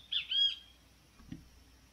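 A bird at a nesting area near a power tower, where falcons guard a parakeet nest, gives two quick high chirps close together, clear but faint, then a soft low thump in otherwise quiet air.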